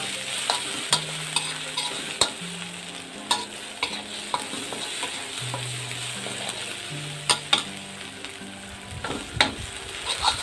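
Pounded garlic and chillies fry in about three spoonfuls of hot oil, making a steady, close sizzle punctuated by sharp clicks and utensil taps. Soft stepped tones run in the background.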